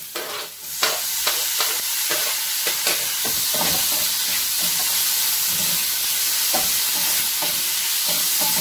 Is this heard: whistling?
no